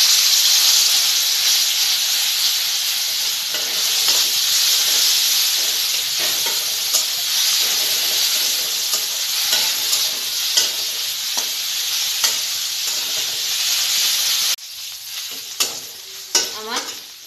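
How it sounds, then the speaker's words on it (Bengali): Chicken pieces frying in hot oil in a home kitchen, a loud continuous sizzle and hiss with occasional stirring scrapes, easing off near the end. "তেল গরম হয়ে গেছে, আমি এখন চিকেনগুলো ভেজে নেব।"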